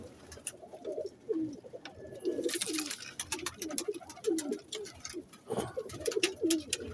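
Pigeons in a breeder's loft coo in overlapping throaty rolls, close and continuous, with occasional sharper bursts of wing flapping and no speech.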